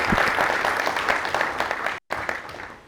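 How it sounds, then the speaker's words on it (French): Audience applauding at a business conference on industry and commerce, dense steady clapping from a large crowd that cuts out abruptly for a split second before resuming. "Et là, vous pouvez applaudir."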